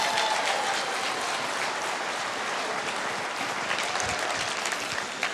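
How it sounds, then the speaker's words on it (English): Audience clapping at a speaking event, a dense, sustained round of applause from a full room that carries on evenly for several seconds, with faint crowd murmur and a whistle-like tone near the start. "Give a round of applause."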